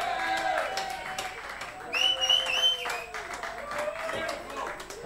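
An audience claps for the band at a live show, a scattered round of applause at moderate volume heard under a voice speaking over it.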